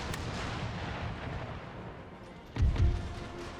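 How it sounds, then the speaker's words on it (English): Cannon fire in a siege battle video game, with a rumbling din of distant booms followed by a louder, heavier blast near the end; no one speaks. "They've set up cannons here, actually."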